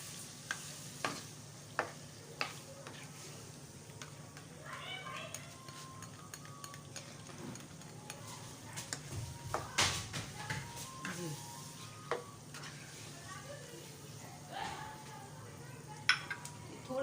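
Chicken liver (kaliji) fries with yogurt in a pan, giving a steady soft sizzle broken by scattered spoon scrapes and clinks against the metal as it is stirred, with some talk over it.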